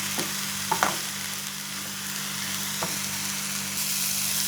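Apple pieces and sugar are stirred in a pan for makhana kheer, giving a low, steady sizzle with a few scraping clatters from the utensil near the start and again toward the middle. No one speaks.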